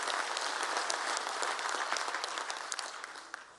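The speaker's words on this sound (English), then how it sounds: "I think we deserve a nice round of applause for it." A crowd of delegates at a provincial party conference applauds, a dense burst of many hands clapping that slowly tapers off toward the end, with no speech over it.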